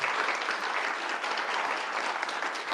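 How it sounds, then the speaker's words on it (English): Steady, dense applause from a summit audience for a panel, loud and continuous with no voices over it. "a huge round of applause to them"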